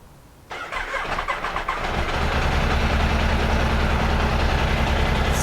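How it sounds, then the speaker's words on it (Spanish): After a quiet moment a Benelli motorcycle engine with its check-engine light staying on cranks and fires up, its rough rumble steadying into a constant nearby idle. "Vamos a prender la moto"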